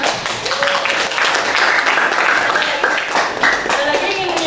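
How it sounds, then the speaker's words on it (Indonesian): Students in a classroom clap their hands together, a close, loud and fairly dense burst of applause lasting several seconds, with voices talking and calling out underneath. "Tepuk tangan."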